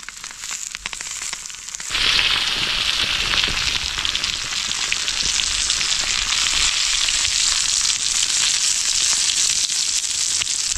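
Fish wrapped in banana leaf fries in a pan for a Kerala-style meen pollichathu, a steady loud sizzle that jumps up sharply after a quieter start and then crackles on without a break.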